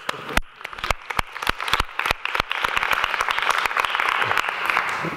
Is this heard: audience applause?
yes